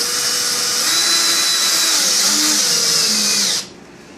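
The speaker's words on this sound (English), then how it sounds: "So you don't want to go too fast with the screws. And you just start screwing them in." A variable-speed drill drives screws for pop-in casters into a subwoofer cabinet, whining steadily and loudly up close for about three and a half seconds before stopping abruptly, with no talking.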